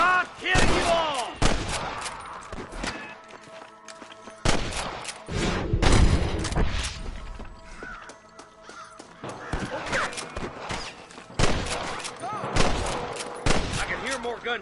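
Bursts of gunfire from several shooters in a Red Dead Redemption shootout against snipers, loud and close, with clusters of shots separated by brief lulls, game voices shouting between volleys.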